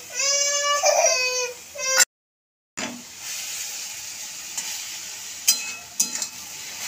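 Eggplant pieces are stirred into frying leafy greens, with a close, steady sizzle and scraping stirs in a pan; a baby cries near the start, and a brief gap of silence follows.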